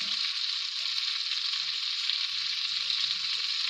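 Chopped celery leaves cook in butter in a pan, giving a steady, close hiss of frying with faint stirring scrapes underneath.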